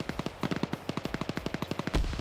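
Automatic weapon fire in a player-versus-player shooter match, a rapid string of around twenty sharp shots in an even rhythm, loud and close, ending in a heavier blast.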